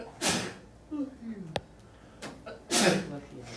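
In a classroom, a person sneezes sharply, then sneezes again a couple of seconds later, with a brief click and soft murmuring between the bursts.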